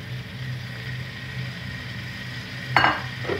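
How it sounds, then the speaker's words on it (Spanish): Chopped potatoes fry in a pot with onion and green pepper for a marmitako tuna stew, giving a steady, soft sizzle with a short utensil clatter near the end and no talking. "dejamos que se sofría un poquito ahí con la cebolla y el pimiento verde"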